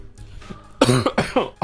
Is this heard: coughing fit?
yes